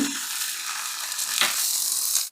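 Pork rib meat frying in a pan with butter and a splash of mirin, a continuous bright sizzle with faint scraping of turning pieces, steady and close before cutting off abruptly at the end.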